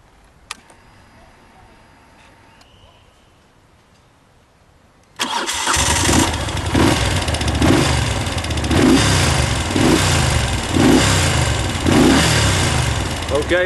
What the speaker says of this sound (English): let's have a listen at that V-twin engine